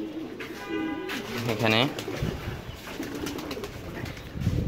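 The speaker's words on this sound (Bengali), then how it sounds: "আর ছাদে কবুতর ছাড়ছি, আজকে কিছু কবুতর ছাড়ছি" Domestic pigeons just released on a rooftop coo in a soft, repeated burbling call near the middle, with someone talking over and around it and faint rooftop ambience.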